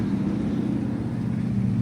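Motorbikes pass along a street in Waikiki, Honolulu, as a continuous low engine rumble that stays at moderate loudness, with no breaks and no voices.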